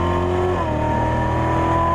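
A 2015 C7 Corvette Z06 on the Las Vegas Motor Speedway track drops in pitch at an upshift, then its engine climbs steadily again under hard throttle, loud and close throughout.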